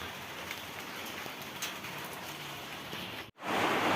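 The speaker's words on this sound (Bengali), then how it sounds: "এখন পড়ছে বৃষ্টি এই যে বৃষ্টি পড়ছে" Rain falls steadily outdoors, a dense, even patter that drops out briefly near the end before resuming.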